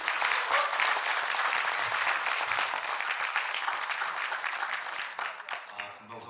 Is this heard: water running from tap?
no